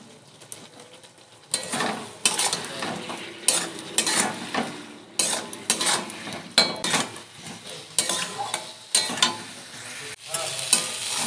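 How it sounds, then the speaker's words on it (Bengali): Potatoes and eggplant stir-fried in a pan for a thin tangra fish curry: a spatula scrapes and clatters against the metal pan in repeated strokes over a steady close sizzle. "আলু আর বেগুন ভালো করে কষিয়ে নিয়েছি"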